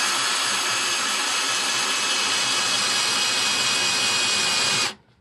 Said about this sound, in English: This is a 23 millimeter drill that I bought specifically for Neutrik USB plugs.